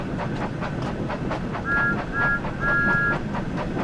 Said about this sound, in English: Here we are, there's the whistle for the